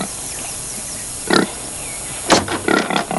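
A pig grunts and oinks in a few short bursts, one alone and then a quick cluster near the end, heard fairly close over a quiet background.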